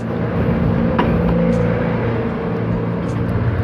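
A Honda Click 125i scooter sets off, its small engine humming and whirring steadily at close range. The drone holds even and continuous for a few seconds.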